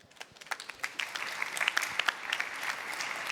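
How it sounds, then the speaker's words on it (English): Audience applause for a conference speaker before a talk on machine learning uncertainty quantification, a dense patter of many hands clapping that builds and holds steady at moderate loudness in a hall, with no voices over it. "Give him a round of applause."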